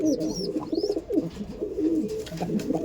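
Andhra pigeons cooing in a loft, soft repeated throaty coos in a rhythmic series close by, with faint higher chirps and bird sounds behind.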